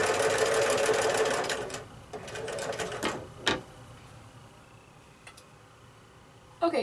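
A sewing machine stitches pieced fabric for a sawtooth star quilt block and runs onto a scrap piece: a steady, fast whirring run that stops, followed by a few faint clicks and handling taps.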